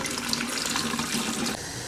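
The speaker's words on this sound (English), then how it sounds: "I'm just going to run water through it" Tap water runs steadily into a kitchen sink, rinsing rice in a pan, a continuous close splashing flow that cuts off abruptly near the end.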